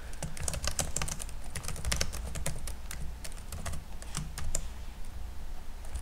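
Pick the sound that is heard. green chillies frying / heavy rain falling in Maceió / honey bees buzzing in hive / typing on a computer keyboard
typing on a computer keyboard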